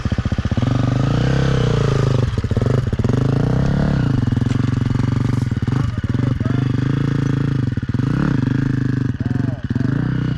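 A motorcycle ridden with throttle, front brake and clutch work, its engine note rising and falling through repeated revs and drops, loud and close throughout.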